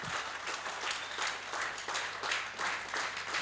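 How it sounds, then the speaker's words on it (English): Audience applause welcoming the new chancellor of a medical university at his installation ceremony, a crowd clapping steadily in rhythmic swells for a few seconds. "a big hand clap to welcome Dr. Olaro Charles, the Chancellor of Finns Medical University"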